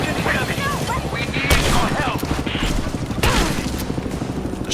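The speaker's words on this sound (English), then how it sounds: "Shotgun." Shotgun blasts in the video game Rise of the Tomb Raider, a few sharp, loud booms punching through dense combat noise and other gunfire while a voice talks.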